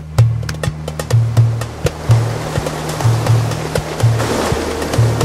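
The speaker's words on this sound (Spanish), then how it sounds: "Enfrente está el mar." Sea waves breaking on the shore, each arriving with a loud, near crash and washing back in a steady rhythm, about five surges, over a constant low rumble of surf.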